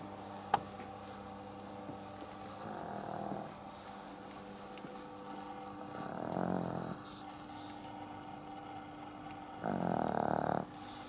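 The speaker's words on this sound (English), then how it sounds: "The bloody dog's, look at it, she's snoring." Three slow, rasping snores from a dog rise and fade at intervals, breathy and close, with quiet stillness between them.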